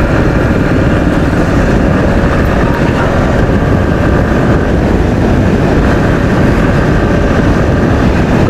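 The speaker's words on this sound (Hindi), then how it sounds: "अभी मैं गाड़ी को पूरा खोल देता हूँ शोरूम जाने तक।" An Aprilia SR 160 Race BS6 scooter engine roars steadily at full throttle and high revs, loud and close, with heavy wind buffeting throughout and no voices.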